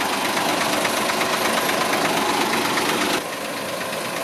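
A new Hino Victor 500 cement mixer truck with its engine idling, a loud steady diesel rumble heard close up that drops slightly in level near the end.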